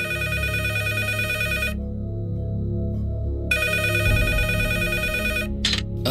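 A telephone rings in bursts of repeated electronic trills, loud and close, with a pause between rings and a short burst at the end, over a low steady background hum.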